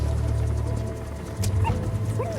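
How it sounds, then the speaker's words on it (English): A young pup in Metal Gear Solid 2 yips and whimpers briefly over a low game hum, the small dog sounds faint and short. "Here's the dog you brought back."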